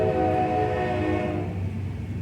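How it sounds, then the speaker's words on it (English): A train passes close by with a sustained, loud horn blast layered over a rumbling rail roar, the horn fading slightly toward the end while the rolling noise continues. "Excuse the train coming through."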